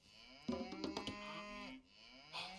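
Several cows moo in a strategy video game, a loud, drawn-out low bellow with rising and falling harmonics, followed by a shorter second moo near the end.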